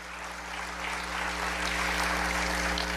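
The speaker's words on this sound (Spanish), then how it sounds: "Dale un aplauso al Señor" Congregation applauding for the Lord during a Spanish-language church service, a steady wash of many hands clapping that builds slightly and holds over a low sustained hum, with no voices on top.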